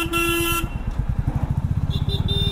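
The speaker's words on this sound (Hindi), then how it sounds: "इतनी ज़्यादा ट्रैफिक है।" Busy road traffic with motorcycles, a sustained horn blast at the start, then rapid pulsing engine putter and short honks further off.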